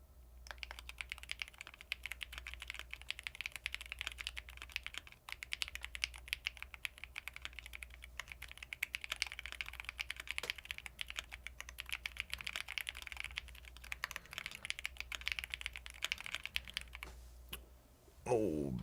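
Fast, continuous clicking of a computer keyboard during a Type Blazer typing race, a dense quiet patter of keystrokes that runs steadily throughout before a louder burst near the end.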